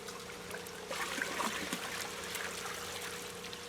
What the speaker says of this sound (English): Just mixing some of the pond water in with a bowl just to equalise temperatures a little bit.